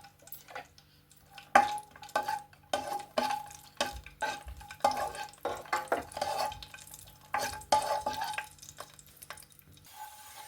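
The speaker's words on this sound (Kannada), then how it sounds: "ನೆಕ್ಸ್ಟ್ ಇವಾಗ ಗೋಡಂಬಿ, ದ್ರಾಕ್ಷಿನ ತುಪ್ಪದಲ್ಲೇ ಹುರ್ಕೊಳ್ಳೋಣ" Cashews and raisins fry in ghee while a spoon stirs and scrapes against the pan in a busy, uneven rhythm over a light sizzle, close up with no voices.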